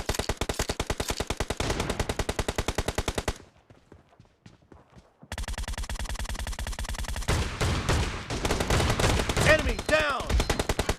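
M1014 shotgun fire in PUBG Mobile team deathmatch: rapid, loud blasts repeat in dense runs, break for a short quiet gap, then resume alongside other gunfire and game effects.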